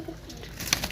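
Pigeons kept in a loft coo softly in a brief, faint snippet, with a short low murmur set against quiet background noise.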